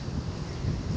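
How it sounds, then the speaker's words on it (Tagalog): Wind gusts on a sixth-floor building level make a steady, broadband buffeting rush against the microphone, close and fairly loud, with no voices. "So hangin."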